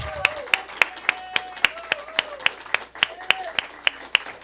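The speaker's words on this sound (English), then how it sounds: "let's give her a round of applause and send her out with our love" A congregation at a Sunday service of a spiritual living center claps in a steady rhythmic beat. Each sharp clap lands about a third of a second apart, over soft sustained tones and a faint voice.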